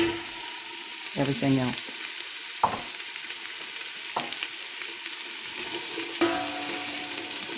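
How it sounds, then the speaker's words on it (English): Garlic sizzles in oil at the bottom of a soup pot for a veggie lentil soup, a soft steady frying hiss with occasional clinks and knocks of a utensil against the pot, and someone speaks briefly. "So I've dumped the garlic in. And it is starting to simmer"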